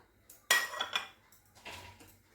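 A spoon clinks and scrapes against a pot as grated khoya kheer is stirred for phirni, with a few distinct metallic knocks over a quiet background.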